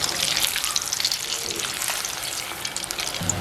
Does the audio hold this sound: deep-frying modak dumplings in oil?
yes